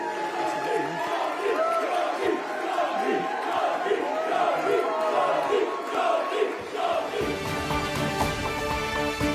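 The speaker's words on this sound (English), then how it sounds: "but was booed by opponents" An election-count crowd at Birmingham Yardley boos and jeers Jess Phillips, a dense, loud wall of mixed voices that sustains throughout before thinning near the end.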